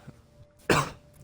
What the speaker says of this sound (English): why do I just cough constantly while I'm recording?